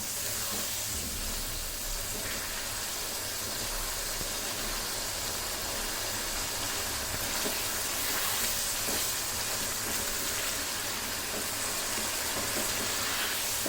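Beef tehari sautéing on a stove over high flame, a continuous dense frying hiss that holds steady and close throughout with no talk.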